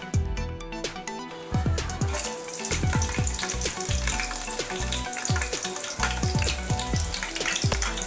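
Green chillies sizzling and crackling in hot oil in a pan, a steady busy frying hiss with irregular spitting pops throughout, close and fairly loud, no voices.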